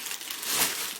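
Packaging from a used monitor is pulled away with a brief, close burst of crinkling plastic or paper, loud and continuous for about a second with no talk.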